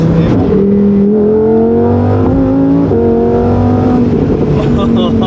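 A Lamborghini engine revs high toward its upper range, a loud harmonic wail that climbs in pitch, dips, then climbs again, heard from inside the car with people talking over it.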